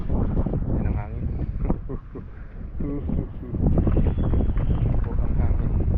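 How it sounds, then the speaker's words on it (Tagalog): Strong wind buffets the microphone in heavy, roaring gusts during rock fishing, with people speaking underneath. "Yan ang hangin."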